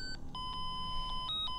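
A buzzer sounds in a series of short electronic beeps with steady tones, fairly loud over a low background rumble, with no talking.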